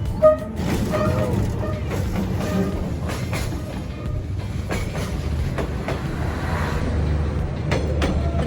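A train rolling through Train Street in Hanoi, its wheels clattering in a steady rhythmic clickety-clack over a low rumble, close and continuous for several seconds, with faint voices nearby.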